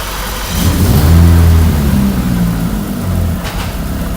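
A car engine cranks and catches, surging up to a loud rev around the first second before settling back into a steady, lower idle, heard close up with no talking.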